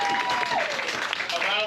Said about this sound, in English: A round of applause for Allison